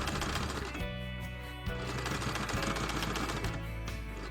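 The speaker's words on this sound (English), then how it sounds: "I sew it together" A sewing machine stitching apron fabric together, a fast, steady mechanical chatter of the needle running close and continuous, with brief pauses and restarts.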